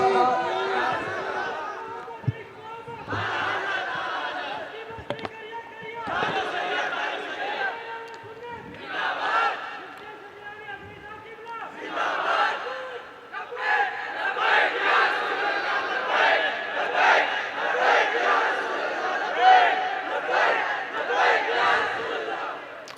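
A large crowd shouts back a religious slogan in unison at a gathering, several loud surging chant bursts separated by brief pauses, with overlapping voices swelling into a sustained roar toward the end.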